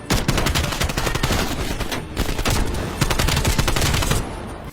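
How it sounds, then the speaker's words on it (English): Rapid, continuous rifle gunfire from the video game Call of Duty: Black Ops Cold War, heard as dense repeated shots that fill several seconds before cutting off into quieter background. "that's a very Hollywood sound suppressor sound effect for what is a tremendously powerful rifle"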